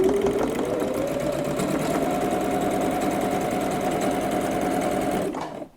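A sewing machine runs continuously while stitching quilt corner blocks, giving a steady, rapid mechanical whir with fine rhythmic ticking, close and loud, before stopping abruptly at the end.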